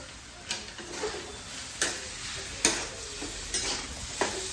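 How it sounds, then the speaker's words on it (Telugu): Spoon stirring spiced potato stuffing for aloo paratha in a pan, with coriander in the mix: a low sizzle runs under soft scraping and a few sharp clinks at irregular intervals, close and fairly quiet, no voices. "చూడండి బాగా కలుపుతూ అన్ని ఇంగ్రీడియంట్స్ బాగా మిక్స్ అయ్యేటట్టు చేసుకోవాలి"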